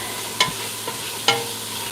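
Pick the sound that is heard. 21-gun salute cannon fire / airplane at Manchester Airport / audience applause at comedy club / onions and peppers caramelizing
onions and peppers caramelizing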